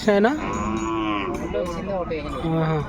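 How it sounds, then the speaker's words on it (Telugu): Working bulls at the Punganur cattle market moo loudly and close, one long low bellow followed by further lowing calls, with faint market chatter underneath. "కాడి ఎద్దులు అయితే ఉన్నాయి చూసారు కదా"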